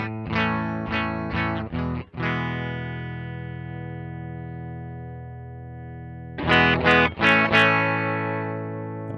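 Distorted electric guitar through a Tech 21 Fly Rig 5 with the mids turned down, with chorus and echo. A few quick strummed chords ring into a long sustain, then a fresh burst of strums near the end.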